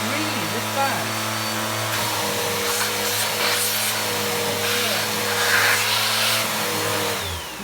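A converted Goblin bagless vacuum cleaner with a 700 watt eco motor runs loud and steady throughout, a continuous close whine and rush of airflow with no pauses.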